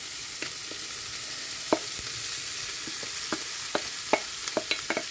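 Spring onion stalks sautéing in a pan for a prawn curry lunch, a soft steady sizzle broken by scattered sharp clicks and scrapes of stirring, close and fairly quiet with no voices.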